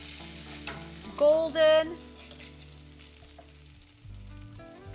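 Crab cakes sauteing in a frying pan, giving a steady close sizzle and crackle throughout, with a brief spoken word and a short tonal clatter partway through.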